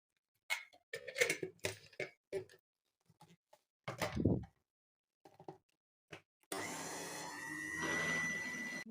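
Electric mixer whipping chocolate sauce with vanilla: after a stretch of quiet talking, a steady whirring motor starts up and runs unbroken, close and fairly loud, to the end.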